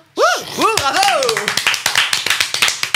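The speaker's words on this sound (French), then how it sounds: "On s'applaudit nous-mêmes, mais c'était cool." A small group claps together right after a song on a radio show, the sharp, quick hand claps ringing close and loud. Excited voices and a cheer come first, then keep going under the clapping.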